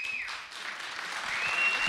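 Faculty members applauding together in an audience, a steady, fairly quiet wash of clapping that holds for about two seconds without speech.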